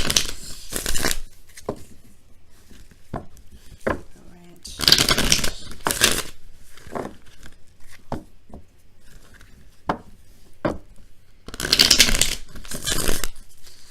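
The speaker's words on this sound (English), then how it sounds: "It's going to be just a couple minutes, a couple seconds to shuffle." Cards are riffled and bridged in several quick bursts separated by soft tapping and handling, close up, with no talking.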